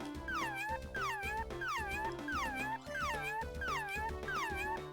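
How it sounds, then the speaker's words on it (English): Repeated cat meows in a quick regular series, about two per second, clear and close with a game-like, looping quality, from a Tamagotchi video game. "Meow, meow, meow, just like a cat."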